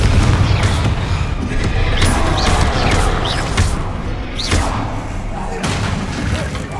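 Spell explosions from the Confringo blasting curse in Hogwarts Legacy, a loud dense barrage of booming thuds and crashes with brief whooshing bursts running continuously through the stretch.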